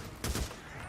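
Two quick shots from an imprecise gun in Days Gone, a zombie survival video game, fired in a short burst, loud and close, with a faint background bed and no talk.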